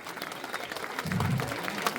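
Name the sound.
standing ovation applause after dance performance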